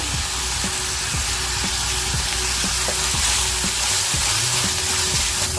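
Onions with curry leaves and salt fry in a pan for a moringa leaf and egg bhurji, a steady close sizzle with regular stirring scrapes of a spatula and no talking.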